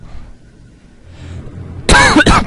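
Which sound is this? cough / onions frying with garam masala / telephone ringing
cough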